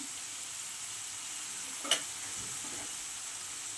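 Ginger garlic paste fries in a pan with a faint, steady sizzle for coconut milk pulao, broken by a single brief clink of a spoon against the pan.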